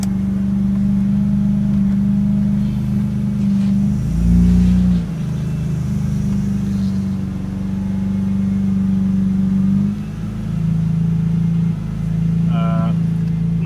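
A BMW E30 M3 engine idles with a steady, loud low drone close by, and a couple of brief revs swell it around the middle. Someone speaks briefly near the end.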